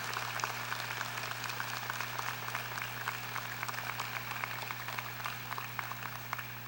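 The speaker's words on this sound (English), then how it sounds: "would you please give a round of applause to all those who've helped you be so successful" Sustained applause from a large crowd at a university graduate commencement ceremony, steady and even throughout, with a low constant hum beneath it.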